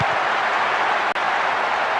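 A stadium crowd in the soccer video game Winning Eleven on PS2 produces a steady, loud wash of cheering and applause-like noise that holds continuously with one brief dropout midway.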